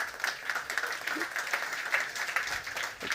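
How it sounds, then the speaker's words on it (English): Steady applause from an audience after a pitch at a summer pitch hangout, many hands clapping at moderate volume with individual claps standing out, slightly distant. "Please give him a round of applause."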